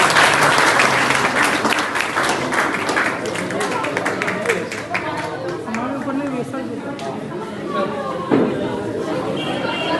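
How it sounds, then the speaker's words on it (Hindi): Audience at a Teachers' Day event in India applauds to welcome a teacher, with dense, loud clapping that fills the whole stretch alongside crowd chatter and cheering, a sharper burst near the end. "सभी लोग जोरदार तालियों से सर का स्वागत करेंगे।"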